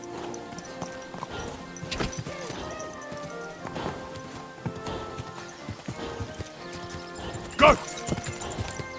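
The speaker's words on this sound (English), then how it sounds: "That bastard's stealing a horse!" Horse hooves clip-clop in a quick rhythm in the medieval video game Kingdom Come: Deliverance II, with a sharp neigh near the end and a voice shouting briefly over the hoofbeats.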